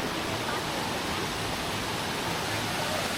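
A waterfall pours into a blue pool, a constant broadband roar of rushing water filling the scene, close and loud with no break.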